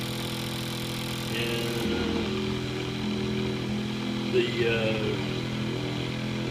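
A Bedini motor spinning at 2506 RPM gives off a steady, layered mechanical hum with a constant pitch, running continuously while someone speaks briefly over it.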